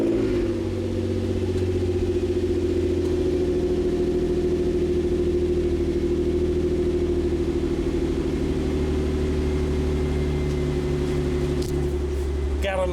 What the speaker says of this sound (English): Gotta love that Borla exhaust.